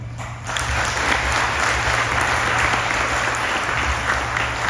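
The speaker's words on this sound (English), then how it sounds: "Let's give one more big round of applause to Alexander Stor for earning his 3rd degree" A sustained round of applause fills a martial arts black belt ceremony, steady clapping from a crowd that holds loud and dense throughout without a break.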